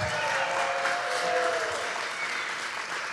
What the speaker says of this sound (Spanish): un aplauso a Josh Papi, que de verdad, que es una historia.